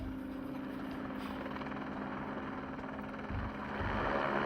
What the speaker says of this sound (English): Everything else is being flown up by the helicopter